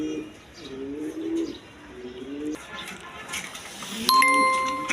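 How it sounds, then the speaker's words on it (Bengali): A pair of big, red-coloured Rajgolla pigeons coo nearby in a run of soft, low, rolling calls, with a brief bright ringing tone near the end. "এইখানে এক পেয়ার রাসগোল্লা কবুতর আছে দেখেন কোয়ালিটি সম্পন্ন কবুতর"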